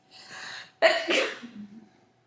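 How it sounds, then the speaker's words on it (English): A single sneeze, up close: a short breathy inhale, a sharp burst, then a brief trailing exhale in an otherwise quiet room. "Hold on, I have to sneeze."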